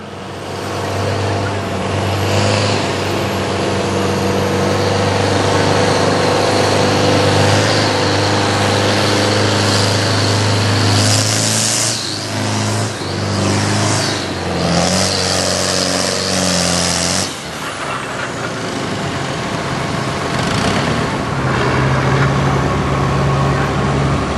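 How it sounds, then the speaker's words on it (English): A pulling tractor at a tractor pull in Langford, New York, drones loudly in a sustained, heavy engine roar that rises and holds, then drops in pitch and volume late in the run, with faint talk in the background. "This tractor runs."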